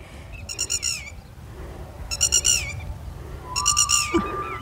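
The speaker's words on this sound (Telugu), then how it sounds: "చిలకలు చాలా ఉన్నాయి ఇక్కడ. ఏం పిలుస్తున్నాయి చూడండి." At a lake park, a bird gives three bursts of rapid, high-pitched chirping calls, evenly spaced and fairly near, over low ambient rumble; no one speaks.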